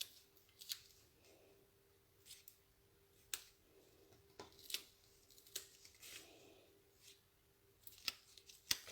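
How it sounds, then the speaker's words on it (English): Scissors trim card paper in a series of quiet, close snips, spaced irregularly over several seconds with soft paper rustles between cuts. "what I'll do is I'll just trim that bit off the top"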